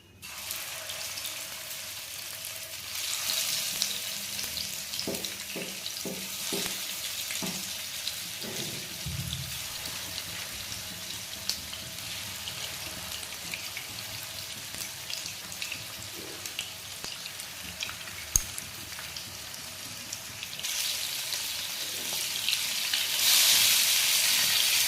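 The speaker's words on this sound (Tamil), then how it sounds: "ஸ்டவ்வில் பேன் வச்சு கொஞ்சமாக எண்ணெய் ஊற்றி மீன் எல்லாத்தையும் போட்டு பொரிச்சிடலாம்." Steady hiss of fish frying in a little oil in a pan, with a few clinks and scrapes early on and the sizzle rising louder near the end.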